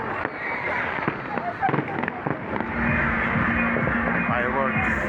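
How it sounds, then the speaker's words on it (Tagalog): Fireworks going off at a lakeside carnival by Laguna Lake, sounding as scattered distant pops and crackles over a steady crowd and music wash that swells in the second half. "Fireworks."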